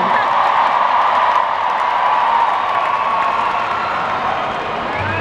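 Concert crowd at the opening show of a tour cheering and applauding, a steady loud wash of voices and clapping that holds throughout.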